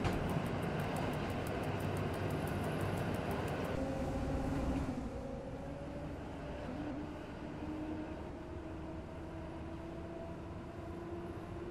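Simulated train in Simrail running at full throttle, a steady broad rumble with rhythmic clicking early on, then a lower droning engine tone that holds on to the end.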